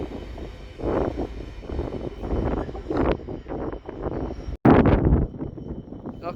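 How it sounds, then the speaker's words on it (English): A train with a flat wheel passing at Peterborough station, loud rumbling with repeated rhythmic thumps and gusty wind noise, one sharp break midway. "Another flat wheel by the sound of things."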